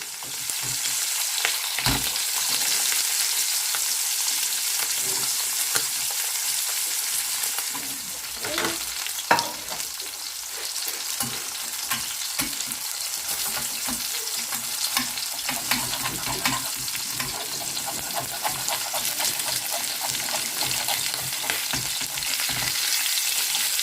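Sea bream frying in a pan on its second side, a loud continuous sizzle and spatter with occasional pops and a clatter, no speech.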